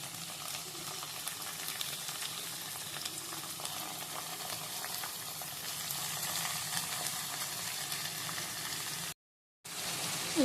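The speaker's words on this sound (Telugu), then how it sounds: "ఇవి కూడా కొంచెం వేగాలి, మనకి దోసకాయ ముక్కలు కొంచెం వేగాలండి" Cucumber pieces and green chillies fry in a pan for a dosakaya curry, giving a steady, continuous sizzle and hiss close up. The sound is broken only by a brief silent gap near the end.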